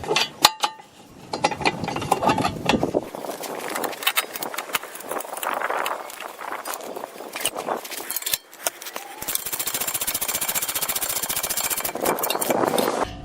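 A ratchet and torque wrench tighten a lower control arm bolt on a Dodge Charger during front suspension work, giving repeated close clicking and mechanical rattles in bursts, with occasional clanks.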